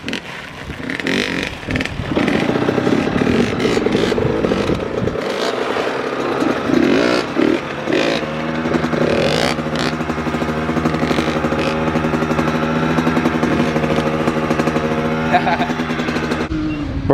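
A two-stroke dirt bike revs hard and climbs through first gear during a wheelie, a loud, rising engine whine sustained for many seconds with voices calling out over it.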